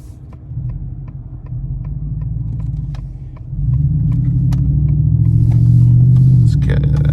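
A 2022 Ford F150 with a 5.0 V8 and a 4-inch MBRP race exhaust accelerating, its deep rumble building and jumping louder about halfway through, then holding a strong, steady drone close by.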